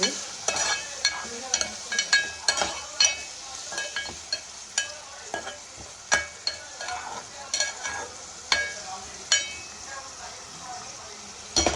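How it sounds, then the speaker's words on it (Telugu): Tomato curry with gram flour cooking in a pan, a soft steady sizzle broken by frequent sharp clinks and scrapes of a metal spoon stirring against the pan, irregular and close, with no talking. "టమాటా వేసేసుకున్నాం శనగపిండి వేసి వండుతున్నాను"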